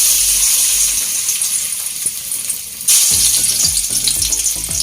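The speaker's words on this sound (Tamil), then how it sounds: "இப்போ இந்த மிக்ஸ் பண்ணி வச்சுருக்க வாழைக்காவை அதில் போட்டு ஃப்ரை பண்ணுற வேண்டியதுதான்" Raw plantain pieces drop into hot oil and fry with a loud, steady sizzle that swells suddenly midway, with crackling and some watery bubbling close by and no voices.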